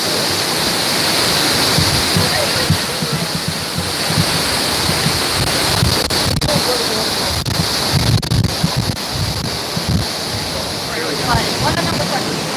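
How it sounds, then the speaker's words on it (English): Waterfall in Westlake Park, Seattle, a steady loud rush of falling water filling the whole stretch, with wind buffeting the microphone and faint voices of people nearby. "Let's move far away from the waterfall."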